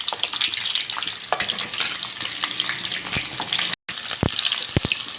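Sliced onions frying in a pan for vegetable soya dum biryani, a close, steady sizzle and hiss with stirring clatters and sharp clicks near the end, no talk.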